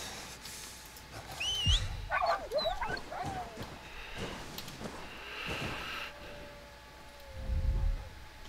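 Dogs in the video game Fade to Silence, with yips, whimpers and short barks scattered over a few seconds amid game noises and a person talking.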